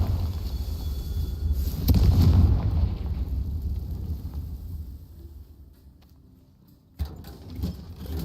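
A Confringo fire spell bursts in Hogwarts Legacy with a loud explosive blast near two seconds, a rumbling tail that fades out, then a sharp smaller pop near the end.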